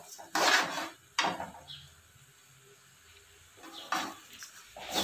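A spoon scrapes and clinks in a pan of sesame seeds frying over low heat, giving a few separate close bursts of stirring with quiet gaps between them.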